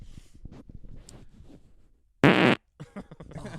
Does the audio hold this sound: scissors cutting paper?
no